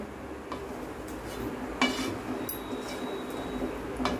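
Fried paneer cubes are tipped into a pan with green capsicum, giving a few light metallic knocks and clinks of a spoon against the pan over a steady low kitchen background.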